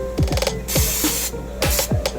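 Cooking oil spray hisses over taco tortillas in two loud, close bursts, each under a second, set against a steady low hum and rapid mechanical clicking.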